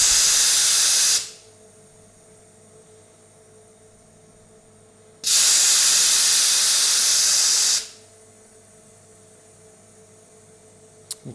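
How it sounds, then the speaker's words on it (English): Gas hisses into a container during closed-system kegging of filtered beer: two loud, steady bursts of several seconds each, separated by quiet gaps with a low hum underneath, close to the microphone. "you can hear it"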